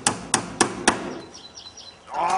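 Four sharp hammer blows ring out in a workshop at a steady, roughly even pace, loud and close, followed by quieter rustling and faint chirps.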